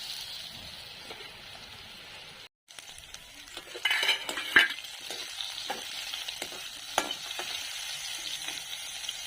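Dry fish sizzles steadily in a frying pan, a close, even crackle broken by a brief silent gap. Several sharp clinks and scrapes of a utensil against the pan follow.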